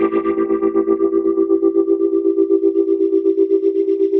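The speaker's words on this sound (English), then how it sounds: "on the right guitar, there is a tremolo that kind of makes the sound kind of vibey and wobbly" Electric guitar with a tremolo effect sustains a steady tone with a fast, even pulsing wobble throughout, loud and close with no voices.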